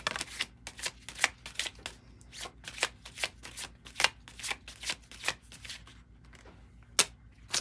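Tarot cards are shuffled in quick, crisp riffling bursts, close and fairly quiet, repeating irregularly over several seconds.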